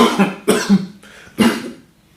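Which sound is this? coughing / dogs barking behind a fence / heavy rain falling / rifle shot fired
coughing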